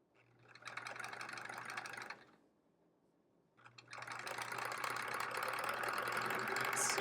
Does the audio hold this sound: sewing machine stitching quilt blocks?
yes